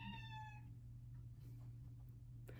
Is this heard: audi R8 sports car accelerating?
no